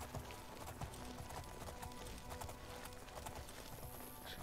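Horse hooves galloping in the Oblivion video game, a faint, rapid clip-clop rhythm running steadily throughout under a busy game soundscape.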